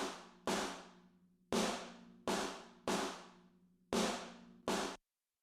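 Snare drum room-mic sample from the Modern and Massive library, seven loud single hits with long roomy decay tails, struck at uneven intervals, isolated with no talking.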